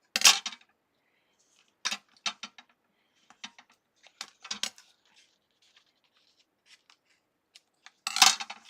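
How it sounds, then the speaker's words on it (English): Pink scissors snip through paper while making a card, giving sharp, scattered cuts and rustles in irregular bursts with quiet pauses between them, close by and with no talk. "But I do love my pink scissors"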